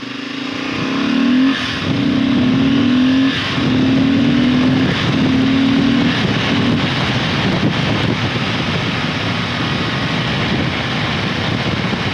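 A Kawasaki KLR motorcycle engine with a modified airbox revs up and drops back several times, then settles into a rough roar with heavy wind buffeting the microphone.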